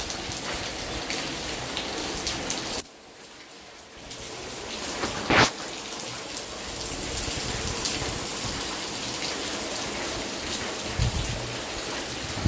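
Steady rain pours down continuously, broken by a brief quieter moment and a sharp splash, with no voices.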